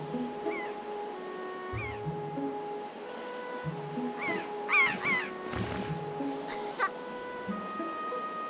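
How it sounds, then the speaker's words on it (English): Repeated harsh crow-like caws from a bird in The Legend of Zelda: The Wind Waker HD, several calls scattered over game music with tonal melody lines, moderately loud and close. "Oh no, watch out for that bird!"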